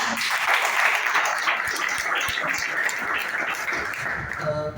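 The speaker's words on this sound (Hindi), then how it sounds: "मैं आप सब लोगों की जोरदार ताली से वेलकम।" A crowd at an Indian motivational seminar claps in sustained, dense applause lasting several seconds, loud and close, slowly tapering at the end.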